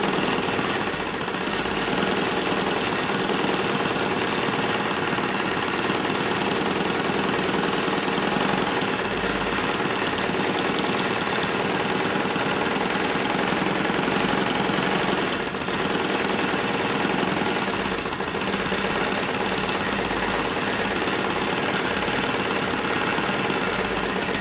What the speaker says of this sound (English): Now that it's getting tighter, I'm going to slow the machine down.